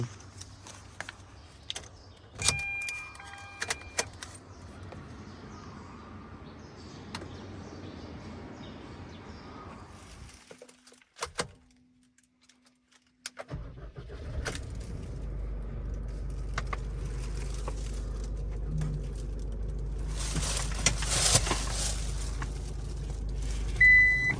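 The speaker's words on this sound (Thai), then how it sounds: "นี่ขยับรถกันแป๊บหนึ่ง" A 2024 Isuzu D-Max Cab4 pickup being moved: faint beeping tones early on, a short near-silent gap, then a steady low engine rumble that continues to the end.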